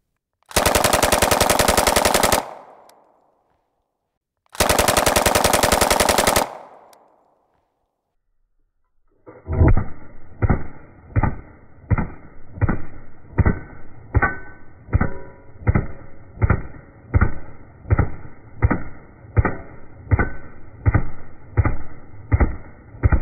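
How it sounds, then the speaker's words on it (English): A Thompson submachine gun fires .45 ACP rounds into a ballistic shield. After two long flat bursts of noise and a pause, about twenty loud single shots follow at a steady, evenly spaced rhythm, close to the listener. "we're going to shoot with a 45 ACP out of this Thompson just because we can"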